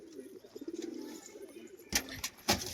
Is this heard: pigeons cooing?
yes